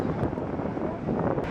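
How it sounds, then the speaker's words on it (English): Wind blows at night in Las Vegas, a steady low rush with gusts buffeting the microphone, fairly loud throughout and with no speech. "It's a little windy."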